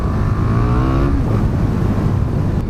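A KTM 1290 Super Duke R motorcycle opening its throttle, the engine revving up in a loud, close sweep before settling back.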